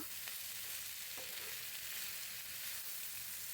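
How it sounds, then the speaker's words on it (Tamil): Millet vermicelli upma stirred in a hot pan, a steady soft sizzle with faint scraping under it, close and continuous without any talk. "இப்போ சேமியா சேர்த்து பண்ண நல்லா கிளறி கொடுத்துக்கலாம்"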